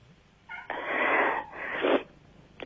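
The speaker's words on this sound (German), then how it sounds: "das ist die Katze von der Seewiel." A cat lets out a drawn-out, raspy meow in two parts, close and fairly loud, against a quiet background.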